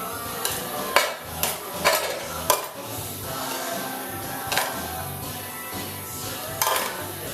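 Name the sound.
tossing spaghetti with sauce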